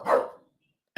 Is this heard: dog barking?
yes